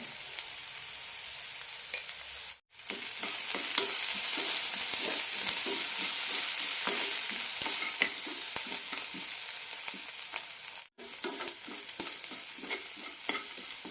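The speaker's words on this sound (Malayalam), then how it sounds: "സവാള ചെറുതായി ചുവന്ന് കിട്ടിയാൽ മതി ഇതിലേക്ക് രണ്ടു നുള്ളി ഉപ്പ് കൂടി ഇടാം" Chopped onions sauté in a pan with a pinch of salt, giving a steady close sizzle and frying hiss with stirring scrapes, continuous except for two brief breaks.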